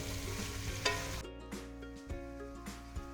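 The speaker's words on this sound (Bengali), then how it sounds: "দেখো আলু আর পেঁপে আমার ভাজা প্রায় হয়ে গেছে।" Papaya and potato pieces fry in hot oil for a Bengali papaya dalna, giving a steady, fairly quiet sizzle that carries on throughout, with a few soft stirring knocks.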